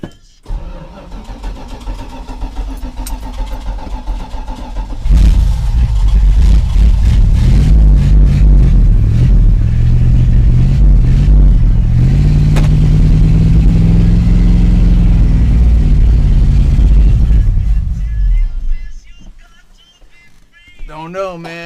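Engine of a 1984 Dodge Ram pickup with a fuel and ignition fault, loudly cranking, catching and running rough with uneven revving for several seconds before sputtering and dying out.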